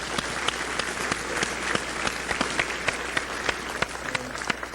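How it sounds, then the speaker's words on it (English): Sustained applause from a conference audience for a speaker who has just presented, dense steady clapping with scattered sharper claps throughout, fairly loud and without talk. "Big round of applause for Stan."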